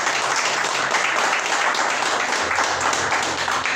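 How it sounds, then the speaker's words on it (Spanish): A church congregation at Sunday school breaks into sustained applause, a dense wash of clapping that stays steady throughout, with a faint low hum underneath. "Yo pienso que Él merece el mejor de los aplausos."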